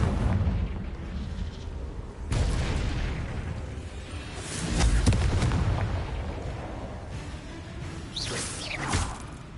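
A blasting curse detonates in a fantasy wizarding game, giving a loud booming burst with a whooshing rush, followed by further rumbling blasts and crackling debris over roughly ten seconds.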